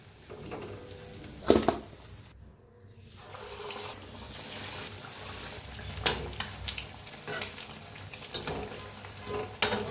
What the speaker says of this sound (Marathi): सगळेच अंडे असेच तळून घेते मी